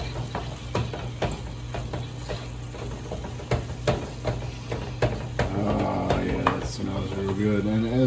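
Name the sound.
food browning in a pan, sizzling and stirring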